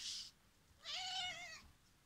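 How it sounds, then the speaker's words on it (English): A pet house cat meowing close by: a faint short squeak, then one clear, drawn-out meow, with no talk over it. "Sorry, I'm being attacked by my cat."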